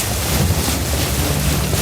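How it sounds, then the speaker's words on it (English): An off-road car drives through a river, a loud continuous rush of water and engine rumble heavily buffeted by wind noise, with no voices. "we'll be driving in the river"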